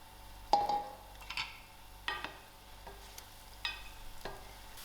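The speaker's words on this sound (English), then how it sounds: "Just going to add in my prawns. I will allow these prawns to fry out crispy." Prawns frying in hot oil, a quiet steady sizzle broken by several sharper scraping and stirring clatters from a utensil in the pan, no talk.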